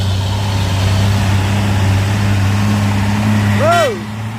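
A Simpati Star bus rumbles past on the road, a loud steady engine drone with a brief horn-like tonal sweep near the end.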